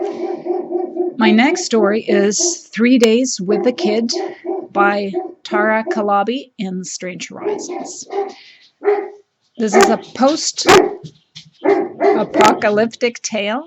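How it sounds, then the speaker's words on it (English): A dog barks in short bursts in the background while someone speaks steadily close to the microphone, the barks mixing in and out of his talk. "with additional dog barking"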